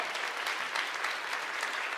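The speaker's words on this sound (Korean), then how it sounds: "우리 축하의 박수 하시겠습니다" Church congregation claps in congratulation for members' birthdays, a steady, moderately quiet wash of many hands clapping together for two seconds.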